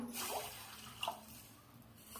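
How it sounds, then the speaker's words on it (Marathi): Water is poured into a cooking pot for dal dhokli on the stove, a soft close splash and trickle with a brief brighter drip in the middle, quiet and unaccompanied by talk. "ह्याच्यात थोडं पाणी टाकूया"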